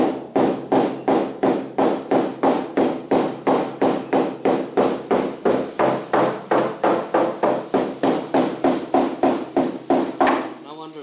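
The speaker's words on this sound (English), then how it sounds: "Just give this a little tap with the hammer on the outside here" Rapid, steady metallic hammer taps on the outside of a rusty, mud-filled car body panel, about three per second, loud and close, continuing for several seconds without a break.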